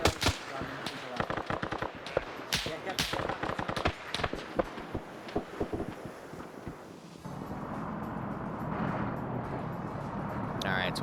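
Machine gun and rifle fire in an Arma Zeus-run operation on the Raate Road, in dense rapid bursts with sharp single cracks for about seven seconds, then a steady windy rumble with faint voices underneath.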